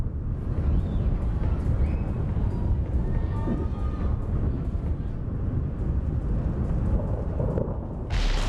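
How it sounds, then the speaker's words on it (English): Thunder from a lightning strike in the Emergency video game, a broad, continuous low rumble that holds steady and loud throughout, with a hiss at the very end. "A lightning strike."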